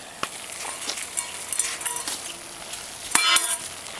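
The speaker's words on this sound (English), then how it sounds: "Oh yeah, rolling boil." Water at a rolling boil in a pot on a Firebox stick stove bubbles and spits close up, with crackling pops and a couple of sharp metallic clinks.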